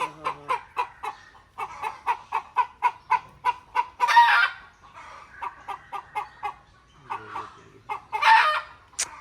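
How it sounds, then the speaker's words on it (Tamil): Rapid rhythmic clucking from chickens, broken twice by a loud rooster crow, with no one speaking. "கத்தாத கோழி"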